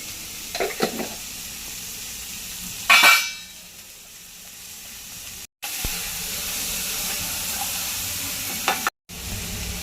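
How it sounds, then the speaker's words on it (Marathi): Onion sizzles as it sautés in a pan, a steady close hiss broken by sharp bursts of stirring clatter and a rush of louder spitting, with two brief dropouts. "कांदा चांगला परतून घेऊया कांदा मऊ होईपर्यंत"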